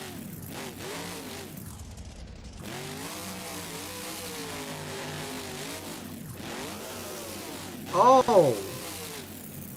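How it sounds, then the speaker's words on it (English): Monster truck engine in the BeamNG game, Monster Jam event in Tacoma, Washington, revving hard with a strained, over-revved transmission whine that climbs sharply near the end, running under continuous commentary and a brief exclamation. "That transmission did not sound happy. That thing was way over revved"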